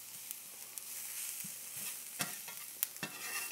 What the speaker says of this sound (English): My onions are sautéing, or rather, sweating.